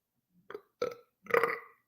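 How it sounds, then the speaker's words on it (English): A person lets out a burp, a short throaty belch in a few quick pulses, close and clear against silence. "I got a burp."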